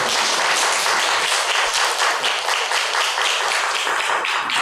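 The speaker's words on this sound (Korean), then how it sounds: "박수로 한번 환영해 주시기" A church congregation claps to welcome a newly introduced member, a loud, dense and continuous patter of many hands that stays even throughout, with no talking over it.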